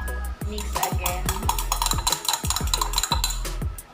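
A homemade alcohol mixture with vitamin E is stirred briskly in a container, with rhythmic scraping and clinking strokes repeating steadily and loudly up close.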